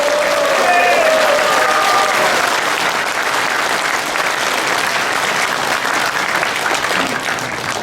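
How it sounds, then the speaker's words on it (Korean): A large audience at a Korean political lecture in Seoul applauds and cheers to welcome a speaker, with dense, continuous clapping and crowd noise. A brief tonal whistle-like sound rises near the start. "이렇게 박수로 환영해 주셔서 대단히 감사합니다."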